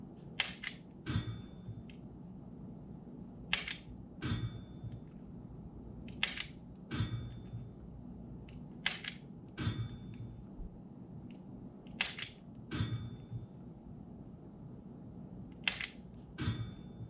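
Shot sounds from a G-Sight laser marksman training app play through a TV speaker during a 10-shot session, sharp clicks arriving in spaced pairs over a quiet room.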